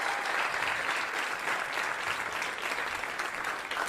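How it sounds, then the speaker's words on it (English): A crowd at a New York City stand-up comedy club applauds, a thick, even wash of clapping that holds steady from start to finish without a break, with no one talking over it. "New York City, a round of applause."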